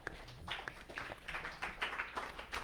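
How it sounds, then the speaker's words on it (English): Light scattered clapping from a church congregation during a Thanksgiving service, soft and somewhat distant, a loose patter of hands lasting a few seconds. "No need to clap."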